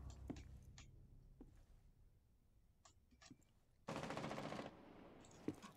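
Gunfire in Rainbow Six Siege, scattered single shots and sharp clicks, then a loud sustained automatic burst lasting under a second, fairly near.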